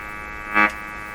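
Hum from the speaker of a Hallicrafters S-38 four-band tube radio, a steady buzzy drone that briefly swells into a louder tone burst midway before settling back.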